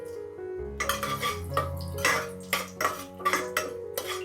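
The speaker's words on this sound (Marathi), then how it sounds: "तेल आता गरम झालंय ते अख्खे मसाले टाकतोय" Whole spices (black pepper, star anise, black cardamom, small cinnamon pieces and a bay leaf) drop into hot oil in a pan, making a close series of sharp clicks and clattering taps over a low steady hum.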